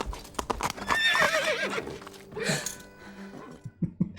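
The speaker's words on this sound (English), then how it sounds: "Damn horse!" Horse hooves clip-clopping and a loud whinny from a film scene in The Mask of Zorro, with the neigh rising clearly over the hoofbeats and a few sharp thumps near the end.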